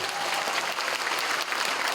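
Concert audience applauding in a city palace hall, a broad, even roar of many hands clapping that runs continuously at moderate loudness without breaks.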